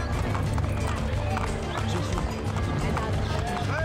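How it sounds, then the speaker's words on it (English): A horse gallops in Assassin's Creed Brotherhood, its rapid clip-clopping hooves pounding steadily and close over a busy crowd murmur, with no talk. "Press Y to call for a horse?"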